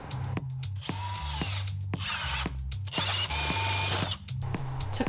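A power drill bores a hole through the floor of an Airstream trailer during a tiny home conversion, its motor whining in repeated bursts with ratcheting mechanical chatter, loud and close.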